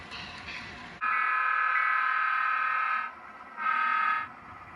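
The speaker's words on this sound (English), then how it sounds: "this is about a 40-car train, which emulates a 100-car train" Model train of about 40 cars running on a home layout, sounding its horn in a long loud blast followed by a shorter one, close and clear over a faint background.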